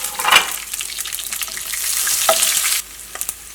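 Ginger garlic paste hits hot oil with a loud burst of sizzling and stirring, crackling steadily before dropping away sharply near the end, leaving a few soft clinks.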